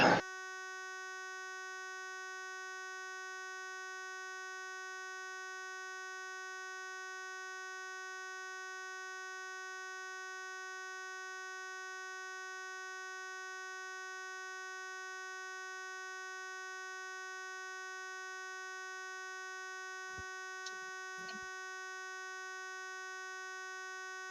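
A single continuous electronic tone with rich harmonics holds steady and unbroken, joined near the end by a couple of faint brief clicks.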